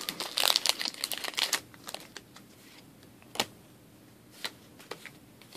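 A Pokémon trading card pack wrapper is torn open. The crinkling foil is loud and busy at first, then gives way to a few scattered crackles and ticks close to the microphone.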